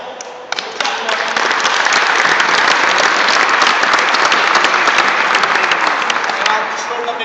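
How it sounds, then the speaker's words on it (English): Sustained applause from a seated audience at a basketball shooting-form clinic, dense steady clapping that swells in after a moment and holds loud and even throughout. "nice round of applause"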